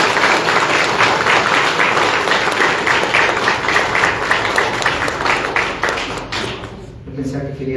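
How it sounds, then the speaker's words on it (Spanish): Loud, dense applause from a church congregation at a Mass in the patron saint's chapel, continuous sustained clapping that tapers off near the end. "Le damos un fuerte aplauso al apóstol Santiago"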